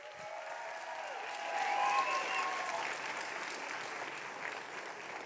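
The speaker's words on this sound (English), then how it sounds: "we give her one more huge round of applause." Graduation ceremony audience giving a big round of applause, broad sustained clapping from a large crowd, fairly distant and swelling slightly before settling.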